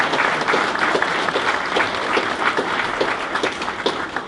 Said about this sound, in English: So let's give Betty a round of applause.